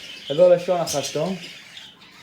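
Cockatiels and lovebirds in cages give several short, close chirps and squawks in quick succession, with someone speaking over and between the calls.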